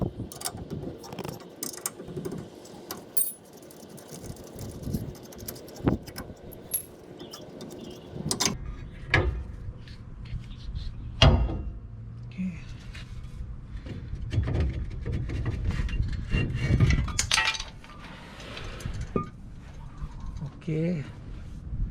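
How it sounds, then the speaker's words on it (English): Brake caliper bolts being removed on a 2003 Dodge Dakota, with irregular metallic clanks, ratchet clicks and tool rattles spread across the clip, some louder knocks in the second half. "So we're going to be removing this caliper."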